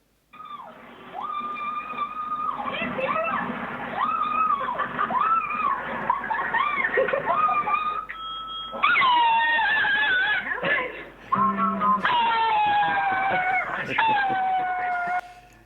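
A dog whimpers, whines and yelps in varied pitched bursts, with brief howl-like tones and some overlapping voices or laughter, all heard from a played video at fairly close, steady loudness.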